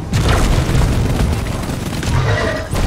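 A rocket explodes in the video game Deep Rock Galactic, a loud booming blast that rumbles on for a few seconds with crackling debris.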